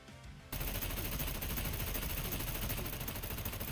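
Dense, unbroken automatic gunfire in the survival game SCUM kicks in abruptly after a brief quiet moment and roars on loud and close without a pause, with no voices over it.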